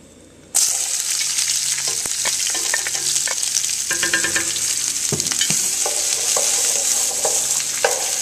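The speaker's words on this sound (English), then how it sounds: "You want to stir them around really good so that the oil coats all the onions" Julienned onions hit hot blended oil over high heat with a sudden loud sizzle that holds steady, broken by scattered clicks and scrapes of stirring, close up.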